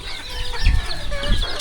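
Chickens clucking in a remote hill village without electricity, a few close throaty clucks over a busy outdoor background of other birds.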